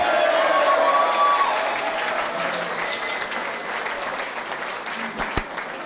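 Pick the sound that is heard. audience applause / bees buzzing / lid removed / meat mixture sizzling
audience applause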